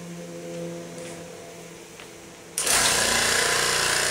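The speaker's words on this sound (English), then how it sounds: "you can hear the back as the vacuum pump running" A vacuum pump for vacuum clamping starts up abruptly partway in, switching from a quiet hum to a loud, steady, broadband mechanical roar that continues to the end.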